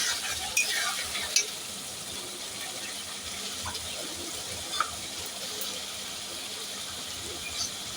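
Half-boiled potatoes are stirred into spice masala in a pan for a vegetarian dhokar dalna, giving soft scraping and a low sizzle with a few sharp clicks of a spoon against the pan, close and fairly quiet.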